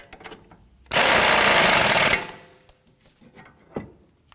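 Power tool spinning down a sway bar link nut on a 2003-2014 Volvo XC90, one loud continuous buzzing burst of about a second, followed by faint clicks and handling noises.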